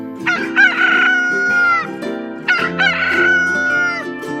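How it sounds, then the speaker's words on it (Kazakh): A rooster crows twice, loud and close, each drawn-out cock-a-doodle-doo rising and then trailing off, with a short pause between the two calls. "Әтеш шақырады."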